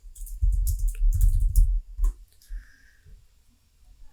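Keyboard keys are tapped in quick clustered bursts, followed by a few sparse mouse clicks that trail off into near silence, close and fairly clear at a computer, with no speech.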